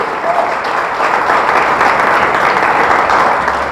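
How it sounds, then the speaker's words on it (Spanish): A church congregation gives loud, sustained applause during a sermon, a thick wash of many hands clapping evenly throughout without pause. "Le damos un fuerte aplauso a Dios"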